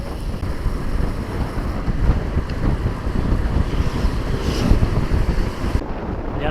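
Strong wind roars loudly and steadily across the microphone of a cyclist riding a flat road on the Jantho–Lamno loop, a dense buffeting rumble lasting throughout with no talk.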